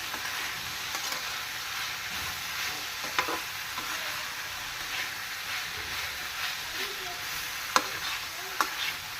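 A spoon stirs a thick avarekai gojju mixture in a pan, giving a steady soft scraping and low sizzle with a few sharper clinks of utensil against metal, and no voices.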